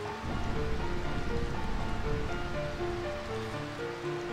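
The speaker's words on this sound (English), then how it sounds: "I find this rain quite pleasant." Rain falls in a Final Fantasy IX game scene, a steady hiss of downpour with faint musical tones threaded through it, continuous and moderately loud with no speech.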